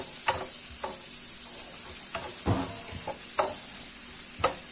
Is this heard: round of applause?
no